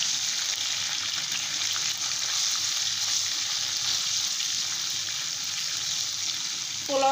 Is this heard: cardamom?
yes